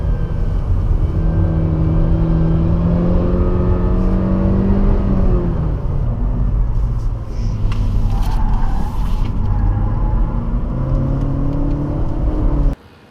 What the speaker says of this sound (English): you still have kind of a delay and that CVT whiny noise that you expect